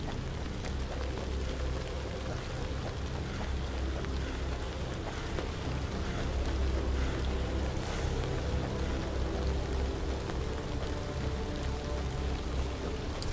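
Rain falls steadily in The Land of Pain video game, a dense, continuous broadband hiss at even loudness with no pauses and no voices.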